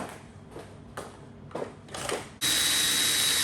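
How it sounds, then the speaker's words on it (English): A power drill whirs in several short bursts with brief pauses, then runs continuously at full, loud speed, close by and with no talking. "Bring out the drills."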